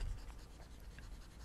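A board eraser rubs across a classroom board, a faint continuous scrubbing swish over about a second and a half, with no talking.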